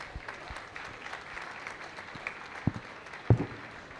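Audience applause rising for a new panel member at a faculty day event, a steady low wash of clapping with a couple of sharper bursts near the end.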